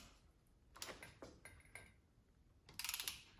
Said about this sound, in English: I'm not good with this torque wrench, like knowing when it's... You just have to go slow when it starts getting tight